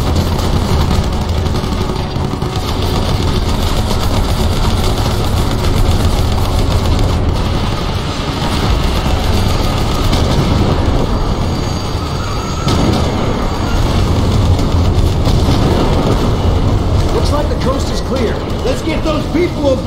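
In the Terminator Salvation video game, a train engine runs with a loud, continuous mechanical rumble and rattling clatter, steady throughout, with voices shouting over it.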